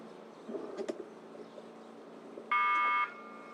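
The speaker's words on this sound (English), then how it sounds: "That's the buzzer" An electronic start buzzer sounds at a men's four A final at the World Rowing Cup, one steady half-second tone after a quiet pause with faint background noise.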